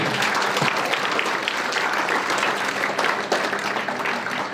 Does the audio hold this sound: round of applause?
yes